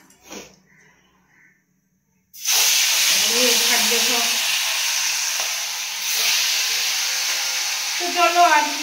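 Fish heads and tails frying in a pan give off a loud, steady hiss and sizzle that starts abruptly after a quiet moment and carries on unbroken, with a voice speaking over it.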